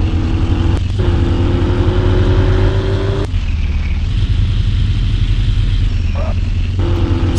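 A car engine in a mobile racing game revs loudly and continuously, its pitch climbing steadily before dropping abruptly at gear shifts and climbing again.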